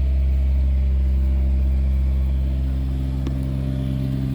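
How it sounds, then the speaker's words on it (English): An Onan 7.5 kW generator on a 2006 Encore 40TS motorhome hums at a steady, loud, low pitch. The drone runs close and unbroken throughout. "Generator's humming right along."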